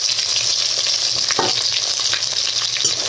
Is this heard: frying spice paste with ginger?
yes